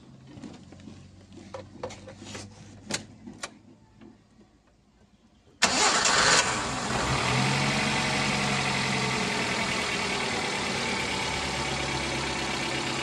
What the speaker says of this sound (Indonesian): Coba kita hidupkan mesin bagaimana?